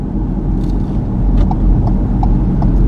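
A car drives through downtown Tuscaloosa, Alabama: a steady, close low rumble of engine and road noise from inside the cabin, with a few faint light clicks over it and no talking.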